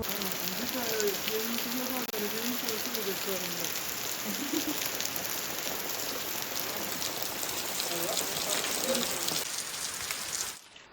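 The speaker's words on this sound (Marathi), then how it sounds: "खूप जोरात पाऊस आलाय" Heavy rain pours in the hills in a dense, continuous roar, with a faint voice murmuring beneath it early on before the sound cuts off at the end.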